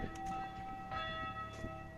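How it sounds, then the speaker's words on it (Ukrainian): Church bells ring steadily near a Catholic church beside landscaped flower beds, their sustained tones overlapping one another at moderate loudness with no voices present. "О, церква, б'ють дзвони."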